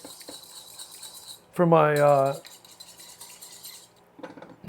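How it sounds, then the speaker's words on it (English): A whisk clinks and scrapes around a pan of warm grapefruit vinaigrette, light metallic stirring sounds broken by a brief louder tonal burst in the middle. "I just want to kind of whisk this around a little bit, let it cool off"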